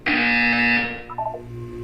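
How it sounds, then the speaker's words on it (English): A loud, harsh electronic buzzer from the video game Portal 2 blares steadily for under a second, then drops off into a short fading tail. "You will hear a buzzer. When you hear the buzzer, look up at the ceiling."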